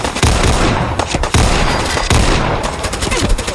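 Heavy Desert Eagle .50AE pistol shots in Fallout 4, several loud booming blasts fired one at a time with short pauses, each ringing with a sharp broadband crack and low rumble.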